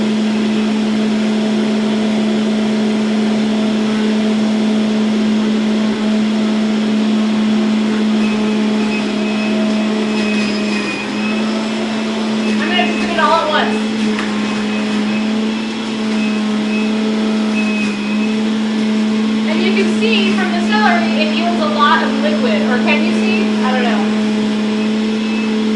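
Loud motor of a juicer grinding celery runs steadily throughout, a constant high drone with rattling bursts of stalks being crushed, while a person talks over it.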